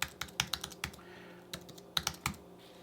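Someone types a password on a computer keyboard during a Raspberry Pi OctoPrint setup: quiet, irregular clusters of crisp key clicks with short pauses between bursts.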